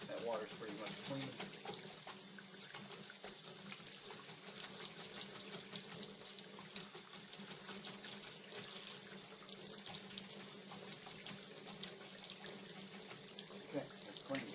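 Tap water running steadily into a sink while a paint brush is rinsed, a constant close splashing hiss throughout.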